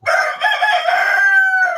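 A rooster crows loudly and close, a single drawn-out call in a winter farmyard with hens nearby.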